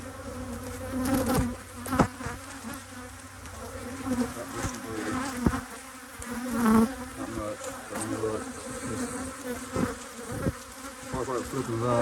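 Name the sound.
honey bees buzzing around an open hive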